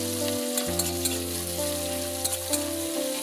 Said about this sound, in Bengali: ওই তেলেতেই পেঁয়াজ কাঁচা লঙ্কা দিয়ে ভেজে নেব